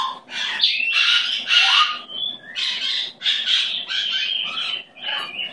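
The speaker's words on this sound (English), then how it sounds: "You're a very pretty bird." A green pet bird gives a run of loud, close squawks and chirps in quick succession, alone with no talking.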